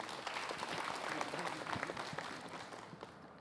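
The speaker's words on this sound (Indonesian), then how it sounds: "silakan tepuk tangan buat guru kita Ustadz Bani" A room full of people claps steadily for a few seconds, the applause fading slightly toward the end.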